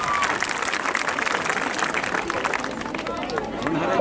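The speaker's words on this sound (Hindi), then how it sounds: "एक बार जोरदार तालियां उनके लिए भी।" Strong crowd applause greets honoured guests at an award ceremony for Mahanadi Marathon winners, dense clapping sustained throughout with crowd murmur and a voice mixed in.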